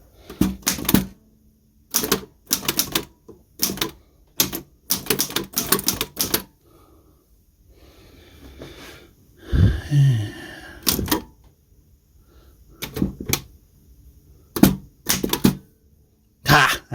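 Typing on an antique L.C. Smith No. 3 typewriter, over 100 years old: bursts of sharp mechanical key strikes in quick clusters, broken by a brief quieter pause with a carriage movement, close and loud.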